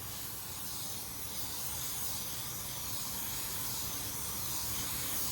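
Spray gun laying a heavier second coverage coat onto a panel in a paint booth, a steady broad hiss running unbroken and fairly loud throughout.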